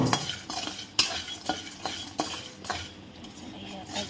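Asafoetida, turmeric and nutmeg are roasted together in a pan, with a soft dry sizzle under repeated scraping and clinking stirs of a utensil against the pan, several sharp taps spaced about half a second apart.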